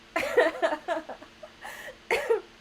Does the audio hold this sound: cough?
yes